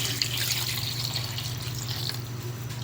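Water running into a pot of pork sinigang with salt already added, a steady, close, continuous pouring and splashing rush from start to end with no talk over it.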